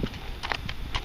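A ridden horse walks on a loose rein, its hooves giving a few soft, irregular thuds close by over a steady outdoor background.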